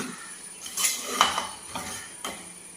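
A metal spoon scrapes and clinks against a pot of tomato rice in several uneven strokes, close by, with no voices.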